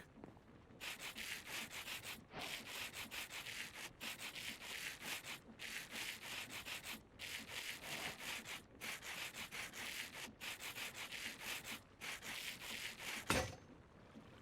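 Repeated sanding strokes with sandpaper in the Minecraft Create mod, a video game effect of rough rubbing bursts about every second and a half, steady and close, with no talking.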